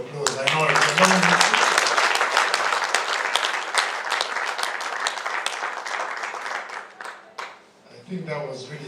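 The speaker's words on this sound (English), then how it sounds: "Can we have another round of applause?" Conference attendees at an institute on sexual violence in conflict break into loud, sustained applause that tapers off near the end, with a voice speaking at the start and again as the clapping fades.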